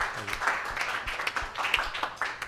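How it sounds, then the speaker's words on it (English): An audience applauds the new head coach at a boys' varsity basketball coaches show, a steady patter of many hands clapping at moderate volume with no voice on top. "you can give him a round of applause"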